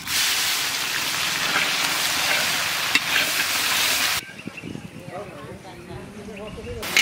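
Onions frying in fish-frying oil with whole cumin and bay leaves: a loud dense hiss of sizzling oil that drops abruptly to a softer crackle with faint stirring scrapes, with a voice speaking over it.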